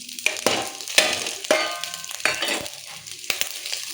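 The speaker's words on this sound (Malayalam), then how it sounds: "ശകലം കടുകിട്ട് തേങ്ങയൊക്കെ ഇട്ട് കൊടുക്കാം." Mustard seeds and grated coconut frying in a pan, a light crackling sizzle with repeated sharp scrapes of a spoon stirring against the metal at roughly half-second intervals, close and without talking.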